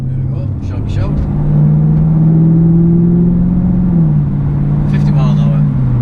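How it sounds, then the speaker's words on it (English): Jaguar F-Type R exhaust note under acceleration, a loud steady droning engine tone that rises and shifts pitch, heard from inside the car with brief voices over it. "There's no hiding from a car with an exhaust like this."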